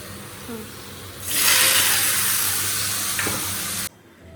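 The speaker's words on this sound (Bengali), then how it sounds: "প্রথমে কাঁঠালটা দিয়ে দিই এটা তো হয়ে গেছে জাস্ট নেড়ে নুড়ে একটু ভাপিয়েই নামিয়ে দিতে হবে" Jackfruit pieces tossed into hot oil with fried spices set off a loud, steady sizzle that rises sharply and holds for a few seconds while being stirred, then cuts off abruptly.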